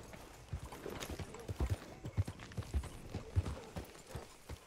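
Hooves clip-clop on hard ground as a horse walks in Red Dead Redemption 2, irregular close thuds at a walking pace with no talking.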